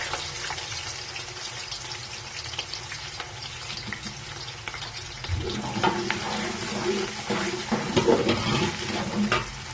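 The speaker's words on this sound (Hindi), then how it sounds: "प्याज को लाइट ब्राउन होने तक फ्राई करेंगे।" Onions frying in hot oil for palak aloo, a steady broadband sizzle that grows louder and busier halfway through as the onions hit the pan, with scraping stirs close by.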